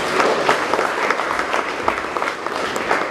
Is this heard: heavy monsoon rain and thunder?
no